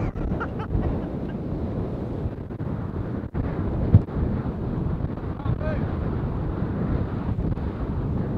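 Strong wind buffets the microphone on a seaside pier in France, a constant loud roaring rumble with brief gusts and no clear talk.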